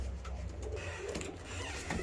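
Long face ornamental pigeons coo softly in a loft, low murmuring calls repeating close by over a steady background hum.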